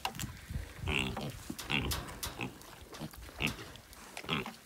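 Pigs grunting and snuffling up close on a snowy day, a run of short, low grunts and occasional squeals with no talking.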